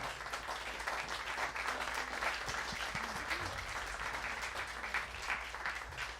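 An audience applauds jazz pianist Ryan Hanseler after a piano hour at the New Orleans Jazz Museum, sustained, moderately quiet clapping spread evenly across the room, with a few faint voices underneath.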